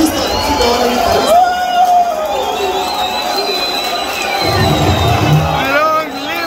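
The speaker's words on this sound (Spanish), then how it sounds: "Otro aplauso grande al que acaba de hacer su sonido." A crowd at a live rock band concert cheers and whoops through ringing stage feedback and amplified music, loud and close, with a louder burst of noise near the end.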